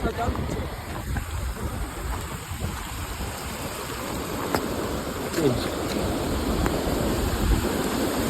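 Water rushes steadily at Kharod dam during heavy rain, a loud continuous broadband roar with rain hiss, unbroken across the whole stretch.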